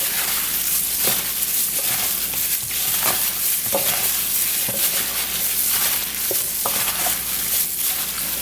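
Caribbean oxtail stew ingredients stirred together in a pot, a steady loud sizzle with repeated scraping spoon strokes roughly once a second, close up and without talk.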